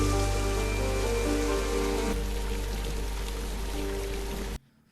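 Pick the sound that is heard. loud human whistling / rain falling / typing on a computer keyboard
rain falling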